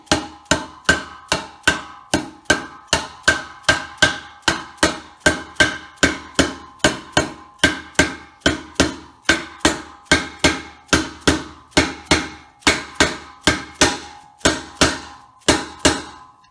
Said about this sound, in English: She's hammering down onto it.